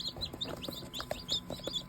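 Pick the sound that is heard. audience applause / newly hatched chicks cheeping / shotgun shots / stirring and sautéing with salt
newly hatched chicks cheeping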